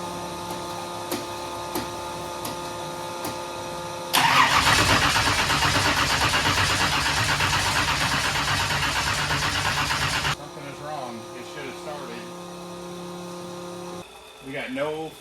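A big-block engine fitted with new lifters cranks loudly and steadily for about six seconds without catching, then falls silent, with shop noise before and after.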